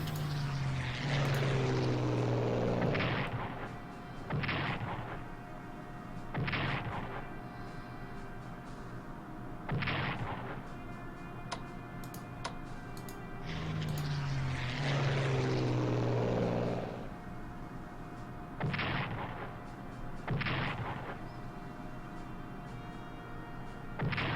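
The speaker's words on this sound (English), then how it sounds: "Let's start bombing." Bombing and artillery in the strategy video game Strategic Command: World at War: repeated aircraft engine drones and sharp explosive bursts recurring every few seconds, with a faint steady tone underneath.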